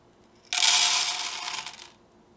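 A quick rattling pour of hard coffee beans dropping into the hopper of a Mueller SuperGrind grinder, a bright scattering clatter lasting about a second and a half.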